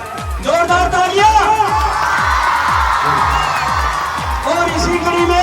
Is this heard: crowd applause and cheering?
yes